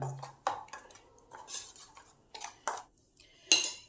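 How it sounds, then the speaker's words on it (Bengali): Spoon scraping and clinking against a bowl as turmeric, chili powder, salt and sugar are mixed into a mustard-poppy spice paste, a series of short close metallic taps and scrapes with brief pauses between them. "এইগুলো এই মশলার সঙ্গে ভালো করে মিশিয়ে নিলাম"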